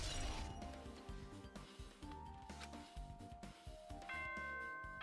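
A bell chime rings through the game soundtrack of Danganronpa 2. Sustained tones layer over rhythmic background music, and a brighter multi-tone chime sounds near the end.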